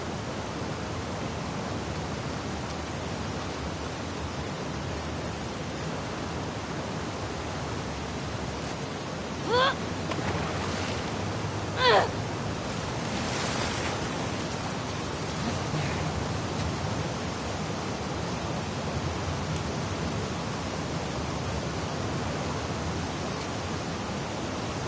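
Rushing water currents and waves from The Last of Us Part II, heard in a swimming section near an aquarium, make a steady broadband wash, with a couple of brief louder splashes midway.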